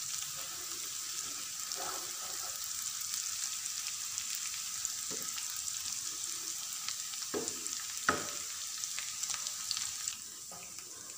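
Garlic and ginger sizzling in hot oil for a sarson ka saag tarka, a steady close hiss of frying with occasional soft stirring knocks, continuous throughout and with no talking.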